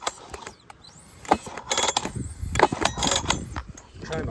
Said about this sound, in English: you can see it rattling there when I pull it over.